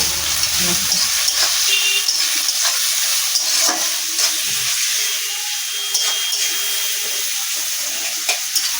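Onions fry in a pan with a close, steady sizzle and hiss, broken by occasional scraping as they are stirred, with faint background sounds.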